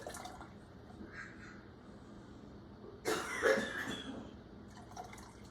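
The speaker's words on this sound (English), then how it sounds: "You're gonna fill these to the 1-inch headspace." Onion soup broth with onions is ladled into glass canning jars, heard as one short, close splashing pour in the middle of an otherwise quiet kitchen.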